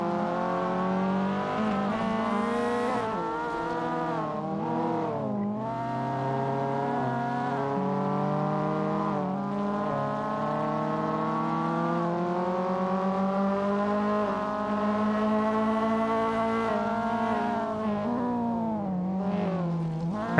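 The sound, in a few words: race cars driving in Assetto Corsa video game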